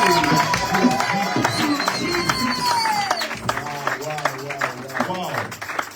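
A church congregation at a revival and healing service clapping and acclaiming, raised voices and shouts carrying loudly over a dense patter of hand claps that grows more distinct midway through.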